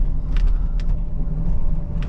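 A 1976 Mercedes-Benz 450SL engine drones steadily while driving, a low continuous rumble with road noise and faint intermittent ticks or squeaks inside the cabin.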